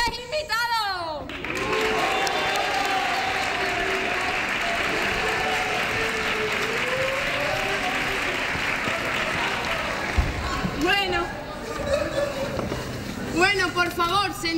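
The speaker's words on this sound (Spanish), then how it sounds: "un fuerte aplauso a nuestros tres invitados" Applause for three guests on a Spanish television talent show, a sustained wash of clapping from the studio audience for about ten seconds, with voices talking before it starts and again as it dies away.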